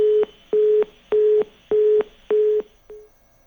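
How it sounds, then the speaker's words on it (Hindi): Phone line disconnected tone during a call: five evenly spaced, steady beeps, each lasting about a quarter second, followed by a sixth that is cut short. The beeps are loud and clear over a quiet line. "शायद फोन कट गया"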